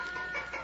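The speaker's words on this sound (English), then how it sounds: "why does that hen keep making all that noise?" A hen clucks insistently after laying an egg, a short, faint, nasal cackle in a radio-play farmyard scene, heard alone without talk.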